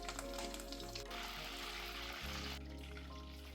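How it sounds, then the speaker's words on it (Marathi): Curry leaves crackle and sizzle in hot oil and ghee for a tempering of dal, a steady close frying hiss that drops in tone partway through, with no talking. "कढीपत्ता फोडणीला देऊया."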